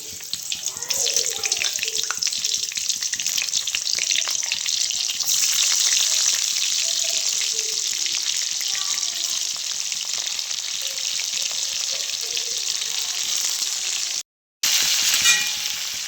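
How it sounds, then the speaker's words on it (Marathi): Bitter gourd, stuffed and dropped into a hot wok over a mustard seed tempering, fries with a steady broadband sizzle that runs close and loud throughout, broken by one brief gap near the end. "जरी मोहरीची फोडणी दिली आता कारली टाकून घेतली"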